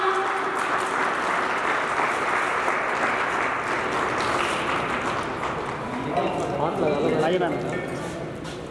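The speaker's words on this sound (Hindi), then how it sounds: "जोरदार तालियां।" Loud, sustained applause from an audience at a school principal's retirement farewell ceremony, dense clapping filling the whole stretch with a voice or music briefly rising through it near the end.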